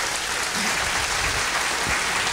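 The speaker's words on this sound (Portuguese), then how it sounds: "Aplauda bem forte ao Senhor," A church congregation claps loudly and steadily during a worship service, a dense wash of applause filling the whole moment without pause.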